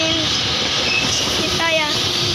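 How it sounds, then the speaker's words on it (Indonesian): A KRL commuter train, a JR 205 series, rumbles close by at Bukit Duri, Jakarta, with steady rail noise, and a short horn blast sounds near the end. "Keretanya klaksonin"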